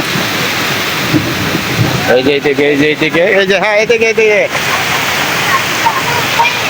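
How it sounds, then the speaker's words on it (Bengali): Heavy rain pours at an outdoor village jatra gathering under a pandal, a dense, continuous roaring hiss throughout, while someone talks loudly for a few seconds in the middle. "এই যে বৃষ্টিটা দেখতে পাচ্ছেন"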